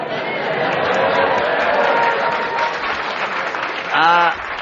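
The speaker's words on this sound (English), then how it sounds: "Ross is playing to the audience. That's why they're clapping here." Studio audience clapping on a radio panel game show, a broad sustained round of applause with some chatter underneath, and a brief voice near the end.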